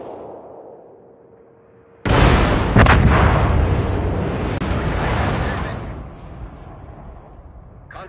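Warship guns fire in World of Warships with a sudden heavy boom that crashes in after a quiet stretch, rolling into a long, loud rumbling decay that slowly fades.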